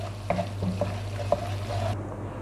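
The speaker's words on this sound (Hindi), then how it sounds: "और अब इसको हम अच्छे तरीके से मिक्स कर लेते हैं।" A spoon stirs turmeric and red chilli into brain masala (maghaz) in a pan, giving soft scraping strokes over a steady low sizzle, close and fairly loud, with no talking.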